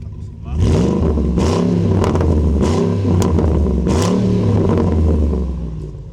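A Ford Raptor pickup with a 6.2-litre naturally aspirated engine revs hard and loud up close, with repeated throttle blips rising and falling over a steady deep rumble.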